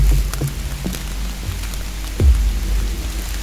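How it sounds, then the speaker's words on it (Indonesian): Heavy rain pounding on a mountain trail on the slopes of Gunung Slamet, a loud, dense, continuous hiss with a few low rumbling thumps. "Hujan semakin kencang"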